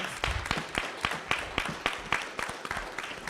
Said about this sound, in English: So let's give our students another round of applause.